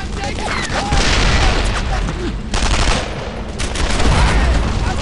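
Gunfire and explosions in the World War II shooter Brothers in Arms: Earned in Blood, dense loud bursts of rifle and machine-gun fire with booms, mixed with shouted voices.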